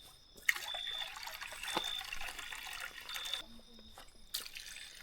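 Water trickling and splashing steadily, as if pouring from a hose into a container, at night in Kibungan, Benguet, with brief faint voices in the background.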